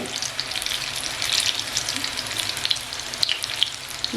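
Crispy corn pakode fry in hot oil over a low gas flame. The oil gives a steady, close sizzle with small crackles and pops, and no voices are heard.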